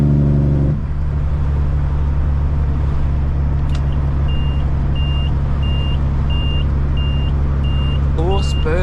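A loud truck with a Cat C-15 diesel engine delivering a forklift mast idles with a heavy, steady low rumble, while a repeating reversing-style beep sounds from about halfway through and people talk over it.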